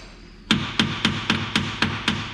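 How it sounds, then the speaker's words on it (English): Seven evenly spaced metallic hammer strikes on the starter of a 1951 Chevrolet farm truck ring out, each a sharp clank with a brief ringing decay, close by. "What if we hit it with a hammer?"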